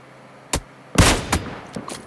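PUBG Lite gunfire: a lone sharp shot, then a louder quick burst of several rounds followed by a few fainter scattered shots.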